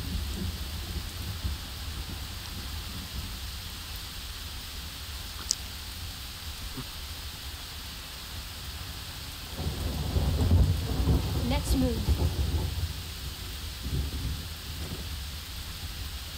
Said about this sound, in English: The rain's kind of throwing me off here.